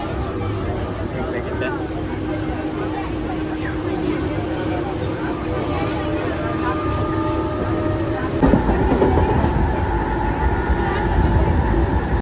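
Continuous rumble of a crowded local passenger train near Karjat, India, heard from inside a carriage, with crowd chatter underneath; the noise grows louder near the end.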